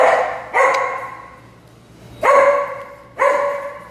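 A dog barks at a dog cafe: three sharp, loud barks spaced about a second apart, each fading quickly, with no talking.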